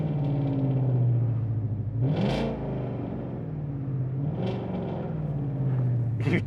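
A 2016 Ford Mustang 5.0 V8 GT automatic convertible idles and blips with a deep, rumbling exhaust burble, steady low throb broken by a few short revs, close and alone without talk.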